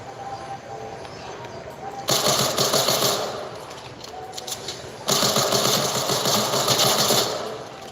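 Automatic gunfire in a video game rattles in two long, loud bursts separated by a quieter stretch of softer background game sound.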